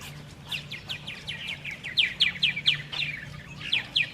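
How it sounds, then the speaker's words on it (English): Purple martins at a colony on a Troyer gourd rack in Texas give rapid, repeated chirps and squawks in the morning, many overlapping calls at close to middle distance over a low steady hum. "They do a lot of squawking and talking and you name it."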